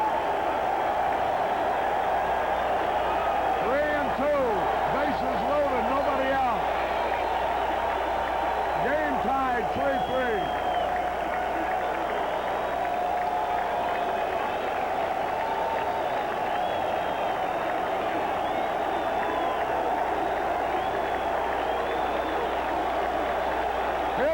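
Baseball crowd at a 1984 Mets game against the Cubs at home in New York, a steady distant roar of cheering and applause rising and falling beneath continuous broadcast commentary.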